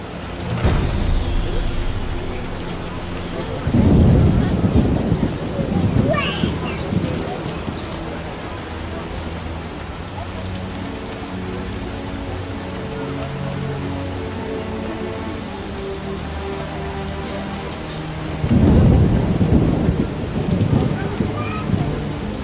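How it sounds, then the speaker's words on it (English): Heavy rain pours steadily in The Witcher game world, with low thunder rumbles swelling near the start and again toward the end; speech-like voices are tagged but no words come through. "A real downpour."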